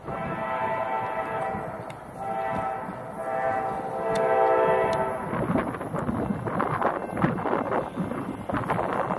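A CSX freight train passes northbound with Conrail-painted locomotives in the lead, a loud, steady rumble of engines and rolling cars close by, with a sustained horn-like tone early on and wind buffeting the microphone.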